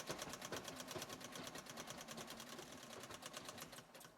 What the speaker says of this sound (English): I like to go over the very edge again with another zigzag